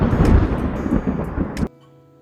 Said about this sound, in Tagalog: ang kulog.